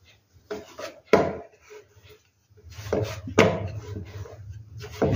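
Spiced tikhat puri dough being rolled out with a rolling pin, close-up with intermittent wooden knocks, rubbing strokes and a couple of sharper taps separated by short pauses, no voice.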